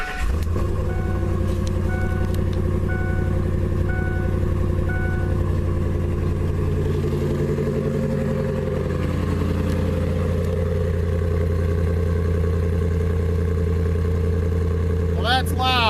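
The engine of a Saleen S331 Supertruck fitted with headers turns over and settles into a loud, deep, droning idle that holds steady throughout, with a brief sharper noise near the end.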